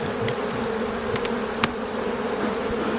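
Dense, steady buzzing of honey bees at an opened hive during a spring inspection for swarm cells, a loud continuous drone close to the microphone with a few sharper passes of individual bees.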